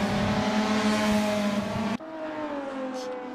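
Historic 1984 ATCC Group C touring cars race in Assetto Corsa, a loud, sustained multi-engine drone near the camera that suddenly drops in pitch and volume partway through as the sound shifts to a more distant car.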